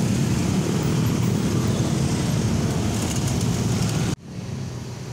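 Steady, loud traffic roar rolls over a railway level crossing near Depok Lama station as vehicles pass once the barrier opens, then the sound cuts off abruptly near the end.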